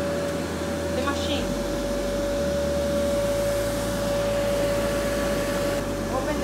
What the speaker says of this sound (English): First of all, switch on the blower.